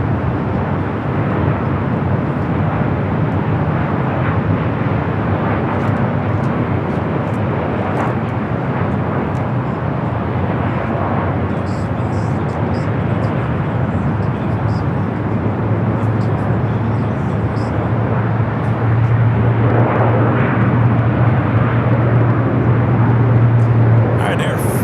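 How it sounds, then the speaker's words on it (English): A Swiss Boeing 777-300ER on arrival from Zurich at Los Angeles airport, its steady low jet rumble holding at moderate distance for the whole stretch, swelling slightly near the end. "Swiss, the 777-300ER coming in from Zurich."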